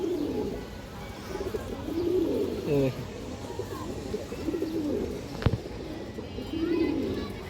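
Low cooing from a loft of pigeons, including a pair with ring eyes, rises and falls throughout, with a voice nearby and a sharp knock midway.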